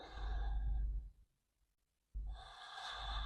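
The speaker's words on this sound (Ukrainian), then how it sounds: "Робимо вдих." Deep inhale during a yoga cobra pose, a soft breathy rush of air, then about a second of silence before another breath follows, close and quiet.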